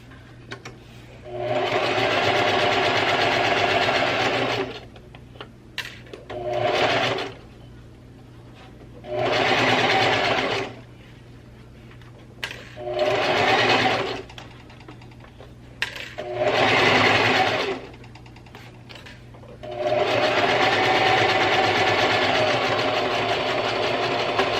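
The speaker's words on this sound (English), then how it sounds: "So now we're gonna sew everything together." A sewing machine runs in several loud, close bursts of a few seconds each, stitching corset fabric layers with a mesh center piece, with quiet pauses between runs and a longer final run.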